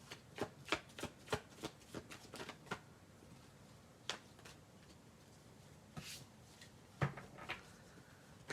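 Tarot cards are shuffled by hand in a quiet room, a burst of quick riffling snaps and taps followed by a pause and a few more sharp shuffles, close and crisp with no talking.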